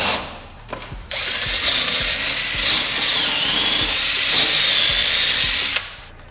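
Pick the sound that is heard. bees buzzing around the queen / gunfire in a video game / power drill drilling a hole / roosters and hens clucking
power drill drilling a hole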